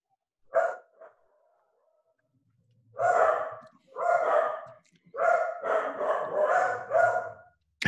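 Dogs barking at close range: one short bark and a faint second yelp, then a pause before a run of loud, repeated barks in quick bursts. No one talks.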